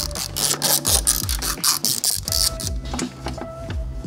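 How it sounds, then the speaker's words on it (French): A 10 mm socket ratchet loosening valve cover bolts on a BMW M52TU/M54 inline-six gives rapid, close, rhythmic clicking in steady runs, with short pauses between strokes and no talking. "Douille de 10, c'est parti pour le dévissage."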